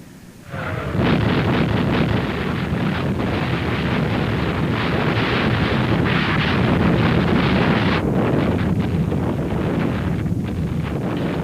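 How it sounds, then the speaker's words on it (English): Heavy artillery guns firing in the Gulf theatre: a loud, dense barrage rumble that starts after a quiet second and roars on without a break, with no voices. "And now the big guns have fired for the first time in anger in the Gulf Theatre."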